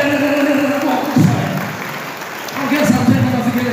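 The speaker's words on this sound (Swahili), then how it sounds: "Hebu mpigie Bwana makofi." Church congregation clapping during a Swahili worship service, a steady dense patter of many hands that swells, dips briefly, then rises again, mixed with voices and crowd noise.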